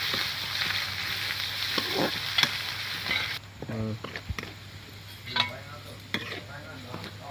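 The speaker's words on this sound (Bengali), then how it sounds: "তো এখানে আমি আদা কুচি দিচ্ছি, দিয়ে আবার নেড়ে নেবো ভালো করে।" Chopped ginger, onion, green chili and garlic sizzle in a pan. A steady frying hiss runs throughout, broken by stirring clinks and scrapes, and it drops to a quieter sizzle partway through.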